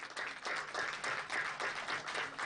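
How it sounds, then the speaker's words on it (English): A large conference audience gives guests a sustained round of applause, dense steady clapping filling the hall throughout. "Let us once again acknowledge our distinguished guests with a warm round of applause, everyone."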